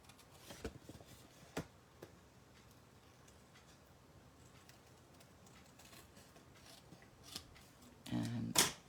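Sharp, sparse snips and crisp clicks of scissors cutting card, close and quiet, spaced irregularly, followed by a short rustle at the end.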